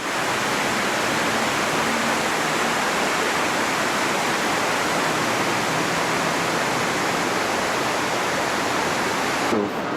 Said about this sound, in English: the water flowing